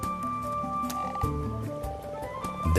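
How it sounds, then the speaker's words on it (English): Common frogs gather in shallow spawning water in spring, with layered croaking and grunting calls overlapping in a steady chorus from several animals, fairly close, over a dense tonal background. "And the common frogs feel spring fever too."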